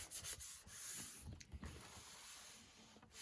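Paper freshly glued onto a handmade journal's spine is rubbed down by hand. Steady, soft, close-up scratchy rubbing continues throughout with a few brief bumps and no talk.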